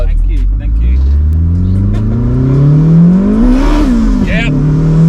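Turbocharged Toyota MR2 with a K20 engine, a 670 bhp street car, accelerating hard: engine note climbs steadily in pitch through the revs, loud and close, with a brief shift near the end and voices talking over it.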